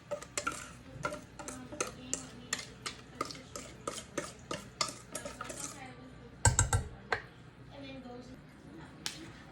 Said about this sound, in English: now I'm going to go ahead and place that batter in the bottom of the pan on top of that melted butter